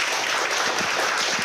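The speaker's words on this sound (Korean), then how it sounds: "오늘 열강을 해주신 도태우 변호사님께 다시 한번 큰 박수 부탁드리겠습니다" Audience applause at the close of a lecture by lawyer Do Tae-woo in a Korean academy classroom series, a steady dense wash of clapping filling the whole moment without any voices.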